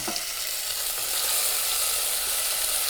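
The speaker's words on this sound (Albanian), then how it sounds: "e hedh dhe e bën çik sa të marrë një të skuqur speci" Red pepper pieces sizzle in a hot pan while a tomato soup is being made, a steady dense hiss of frying that holds evenly loud for the whole span with no voices.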